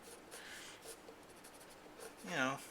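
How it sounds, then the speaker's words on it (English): Quick strokes of a waxy animation pencil on paper, a soft scratchy rasp that stays faint and close, with a brief louder scrawl near the end. "it's a fairly waxy pencil and can you know, you can draw something nice and quick"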